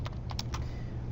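A few quick clicks of computer keyboard typing while entering a command in CAD software, light and close against a low steady background hum.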